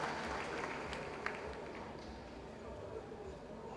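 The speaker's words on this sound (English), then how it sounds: "Let's give our people a big round of applause." Audience applause at the official launch of a pro-poor agenda for prosperity and development in Liberia: a steady, dense wash of clapping from a crowd, held at an even level throughout, with faint voices mixed in.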